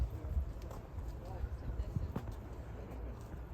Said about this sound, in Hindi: यहाँ आप देख सकते हैं दो घोड़े को, दोनों हैं रामू और सामू।